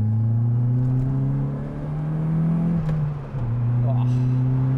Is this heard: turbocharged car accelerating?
yes